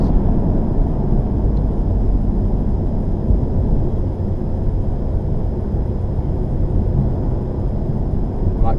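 2017 Honda Civic Type R with a fault where fourth gear pops out, accelerating in fifth gear, giving a loud, steady, rumbling engine drone heard from inside the car with road noise and no talk.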